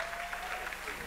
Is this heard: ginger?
no